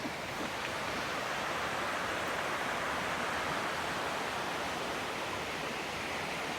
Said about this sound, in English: Look, now we can see the waterfall